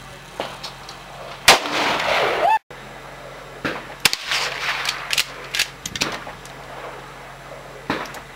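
Gunshots at an outdoor shooting range: several sharp, loud single reports spaced irregularly over several seconds, with quieter ambient noise and faint distant shots between them.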